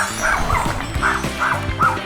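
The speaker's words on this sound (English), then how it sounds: "It's a dog." A dog barks in a quick run of short, sharp yips and woofs, about five close, loud barks spaced unevenly over two seconds, with no talking.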